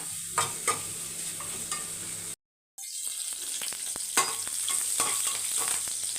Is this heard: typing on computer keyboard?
no